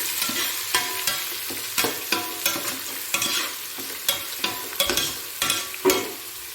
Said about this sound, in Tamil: வெங்காயத்தை போட்டு நல்லா வதக்கணும்.